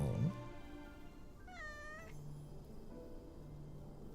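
A cat meows once in a video game, a clear rising-and-falling cry standing alone over a low steady ambient hum, with no talking.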